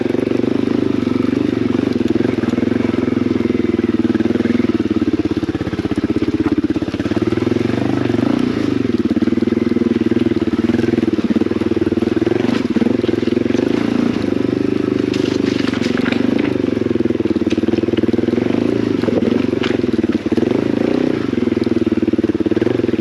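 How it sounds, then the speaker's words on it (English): Motorcycle ridden over a bony, rough mountain road near Devil's Punchbowl, its engine droning loud and steady throughout with slight rises and dips in pitch and rattling crackle from the rough surface. "for a long time I've wondered what it would be like to ride a motorcycle on a road like this"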